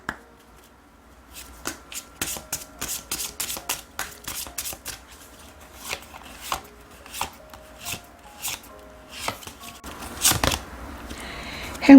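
Oracle cards being shuffled by hand for a tarot reading, a series of quick riffling and slapping bursts in an irregular rhythm, close and clear with no talking.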